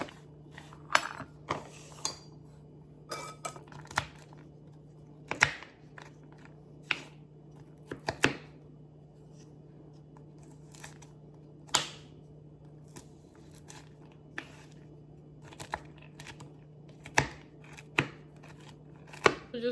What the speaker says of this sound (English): So what I'm gonna do is I'm gonna start cutting them up. So just kind of give them a chop.